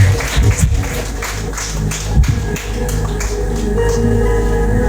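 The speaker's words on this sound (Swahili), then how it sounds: "Pigie Yesu makofi kwa prophet baraka." A church congregation claps for Jesus as a prophet enters, a dense, loud wash of rhythmic applause over a steady background of sound.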